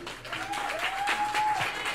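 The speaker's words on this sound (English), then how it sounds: "please give her a large round of applause" Party guests applaud for the guest of honor at an 85th birthday celebration, steady clapping filling the room throughout, with a faint tonal sound drifting underneath.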